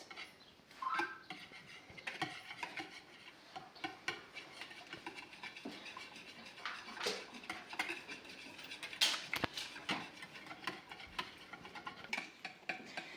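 A whisk stirring a pinch-of-salt and pepper mixture in a bowl, quick irregular light ticks and clinks with no voice over them.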